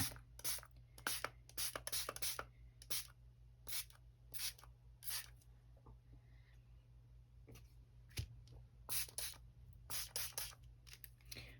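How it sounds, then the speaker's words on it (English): Repeated short hissing bursts of a spray bottle, some in quick clusters, with pauses between them, alongside a steady low hum. "we're just going to spray it down till we get something that we think we like"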